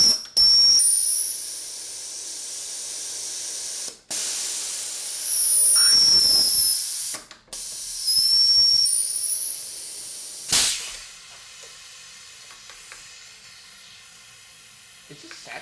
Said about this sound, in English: One of these cylinders is leaking through.